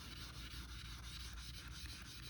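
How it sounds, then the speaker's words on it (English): A 3D-printed part is wet sanded by hand, a continuous close scrubbing rasp with quick regular back-and-forth strokes, fairly quiet and heard alone. "when you're wet sanding"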